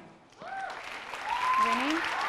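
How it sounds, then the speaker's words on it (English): Applause for a woman named Mary at a wedding-dress event, rising from quiet to a sustained wash of clapping, with voices calling out over it. "Round of applause for Mary"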